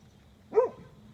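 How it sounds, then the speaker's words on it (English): A dog gives a single short bark at horses passing by, fairly faint and distant against a quiet background. "barking at some horses going by"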